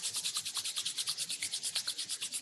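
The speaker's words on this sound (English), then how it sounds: "Rub the palms." Palms of the hands rubbed briskly together, a close, steady swishing friction repeated in a fast even rhythm, alone without talk.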